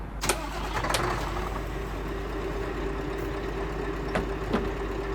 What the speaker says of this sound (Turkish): Aracımızı çalıştıralım.